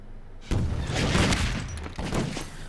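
Gunfire crackles in a Half-Life 2 Deathmatch match, a sudden burst of rapid shots and blasts rolling for a couple of seconds, loud and close, with no talking.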